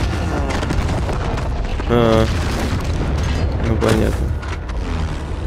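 Heavy airstrike explosions rumble and boom continuously through a Battlefield 1 battle, swelling in a couple of loud bursts, while someone talks over the blasts.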